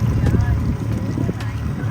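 Private boat ride on Lake Pichola in Udaipur at sunset: low steady engine and water rumble with wind buffeting the microphone throughout, and faint voices in the background.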